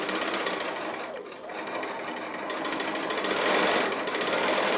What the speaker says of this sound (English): So I'll go to the sewing machine now and stitch those